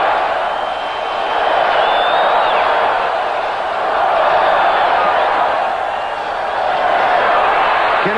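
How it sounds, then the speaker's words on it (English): A large stadium crowd roars steadily throughout an NFL football game, a dense wash of cheering voices swelling and easing slightly, with occasional whistles rising above. "Listen to the crowd."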